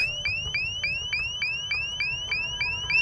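A motion-sensor alarm in the Wrong Turn 2 game sounds off: a rapid series of about ten identical rising electronic chirps in a steady rhythm, shrill and fairly close, with no talk.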